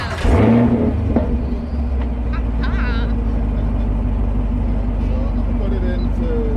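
A gas-powered car engine idles with a steady low rumble after a brief rev at the start, close and loud, with faint voices over it.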